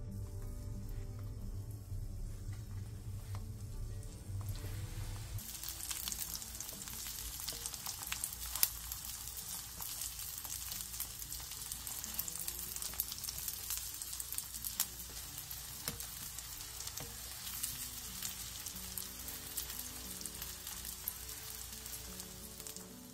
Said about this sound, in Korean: 기름을 두른 뒤 애호박을 올려 중약불에서 앞뒤로 노릇노릇하게 부쳐주세요.